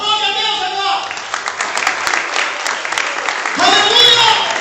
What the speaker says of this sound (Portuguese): Aplaude a Deus agora!